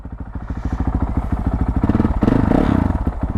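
A Honda CRF450L dual-sport motorcycle engine idles close by with a steady, loud thumping rumble and rapid even pulses, swelling slightly louder partway through.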